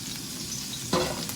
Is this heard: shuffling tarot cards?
no